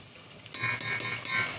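Chicken in a pan is stirred with cumin powder, ground chili and salt, bringing soft scraping and a light sizzle that rise midway, with a couple of sharper utensil clicks against the pan.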